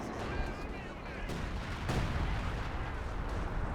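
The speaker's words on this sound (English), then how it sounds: "Okay, the Panzer 4 firing away." Tank and artillery fire in the Company of Heroes 2 video game, including a Panzer IV, a dense, continuous roar of booming shots and blasts layered into a loud battlefield din, with a voice talking over it.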